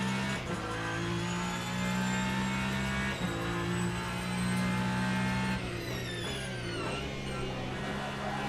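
A hypercar engine in the Le Mans Ultimate racing game at Imola, droning steadily near and loud, then blipping sharply as it downshifts, with revs jumping and falling in quick steps.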